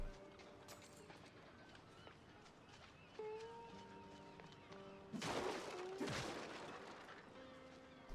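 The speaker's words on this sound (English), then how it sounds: "Slightly wimpy explosion?" A weapon explosion in the shooter game Mouse: P.I. for Hire: one short, rough burst about two-thirds of the way through, rising loud over steady game music, then quickly fading back into the music.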